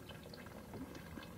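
Glaze poured over an upside-down pottery piece balanced on sticks above a bucket, giving a quiet, steady wash of splashing liquid with faint bubbly spatters and trickles throughout, heard up close with no voices.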